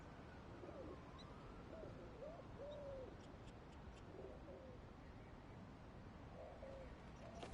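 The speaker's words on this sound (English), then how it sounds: "There's a lot of birds around here." Birds in Marvel's Spider-Man: Miles Morales, soft hooting and cooing calls repeating at a distance over a quiet ambient hush.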